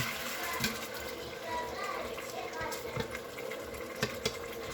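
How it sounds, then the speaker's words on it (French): A little water poured into a cooking pan while fish is cooking, a continuous splashing flow with faint sizzling underneath, close and steady with no spoken words. "je peux me permettre d'ajouter un tout petit peu d'eau. Je vais ajouter l'eau au fur et à mesure."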